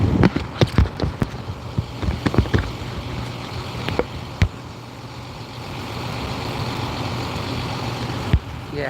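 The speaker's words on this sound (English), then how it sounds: "Wouldn't be in anything live without a big old diesel engine" A large diesel engine idles close by with a steady low rumble throughout, broken by scattered clanks and knocks in the first half and a sharp thud near the end; no voices.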